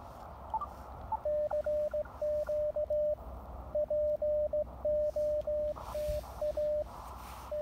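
Morse code sent with a hand key comes through an Elecraft KX2 transceiver during a portable low-power park activation, a steady tone keyed in uneven dots and dashes over a faint hiss of static.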